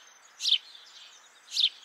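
House sparrow giving its familiar chirp, two short bright calls about a second apart, fairly close against a quiet background.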